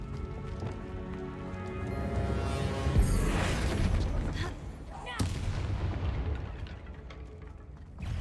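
Spell explosions in the Hogwarts Legacy video game, a rumbling blast with crackling debris, then a sharp bang and a fading roar, over game background sound.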